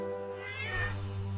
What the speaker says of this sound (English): The cat is scared.